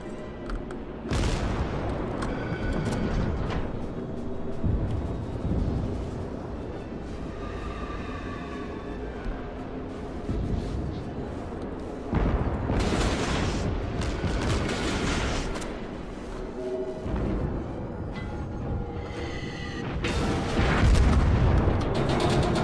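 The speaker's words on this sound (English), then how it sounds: "And we're being shot at." A destroyer under fire in World of Warships, repeated deep artillery booms and shell splashes rolling in at intervals over a constant sea and engine rumble, loud and close, with bursts of heavier impacts.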